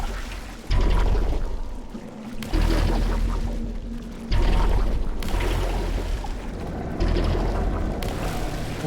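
Water gushes in bursts in the video game Portal 2, loud pouring surges that start abruptly, fade, and return roughly every two seconds, with faint mechanical noise beneath.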